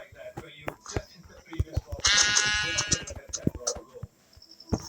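A sheep bleats in the video game Craftsman, one drawn-out, wavering bleat in the middle of the clip, while someone talks continuously over the game's clicks and sounds.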